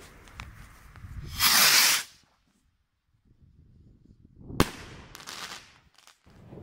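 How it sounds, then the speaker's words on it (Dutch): Black Thunder Rocket firework: a loud hissing whoosh of launch, silence, then a sharp bang followed by crackling and fizzing bursts. "Nog een Black Thunder Rocket van Black Thunder natuurlijk."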